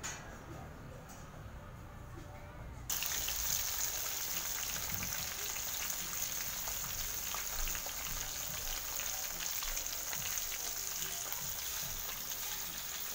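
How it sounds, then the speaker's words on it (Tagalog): Tilapia frying in a pan of hot oil, a loud continuous crackling sizzle that jumps up sharply as the fish goes in, then holds steady close by. "ito pipirito ko ang tilapia"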